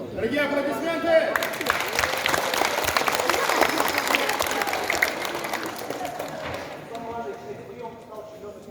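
Applause breaks out from the audience at a master class, a thick burst of clapping that swells, holds for several seconds and then tapers off, with voices heard before and after.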